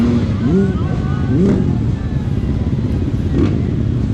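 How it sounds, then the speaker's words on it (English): A 2021 Honda CRF250F air-cooled dirt bike engine at a hare scramble race, a steady rumbling drone with several rising revs from nearby. "I'm riding a 2021 Honda CRF250F"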